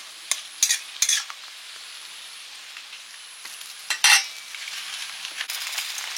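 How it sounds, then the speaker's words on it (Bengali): Lightly fried fish slides into a boiling tamarind sour broth, giving faint bubbling and a simmer, with a few sharp clinks and scrapes of a utensil against the pot. "টক ফুটে গেছে, এবার মাছটা দিয়ে দিচ্ছি।"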